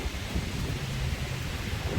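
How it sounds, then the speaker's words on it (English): Steady rain falls on a street in the Thong Lor area of Sukhumvit, Bangkok, a continuous dense hiss with low rumbling traffic or wind underneath, even and unbroken throughout. "it's a bit of a rainy day"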